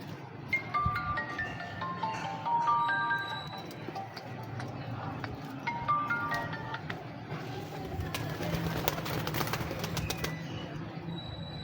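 Breeder pigeons in a loft, a male paired with a female, cooing softly and repeatedly amid rustling and faint background noise, with occasional quiet voices.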